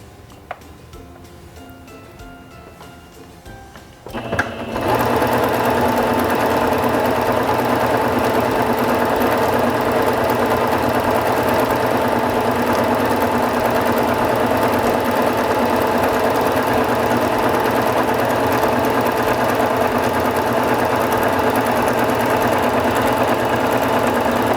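After a few seconds of quiet, a Singer Fashion Mate 5560 sewing machine starts up and runs a decorative stitch at maximum width, a loud, steady, close whirring hum that continues unbroken to the end.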